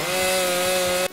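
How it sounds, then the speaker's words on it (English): Chainsaw from a virtual reality chainsaw carving simulator game, a steady loud engine drone with a strong tonal whine that cuts off abruptly near the end. "I built a chainsaw carving simulator in virtual reality"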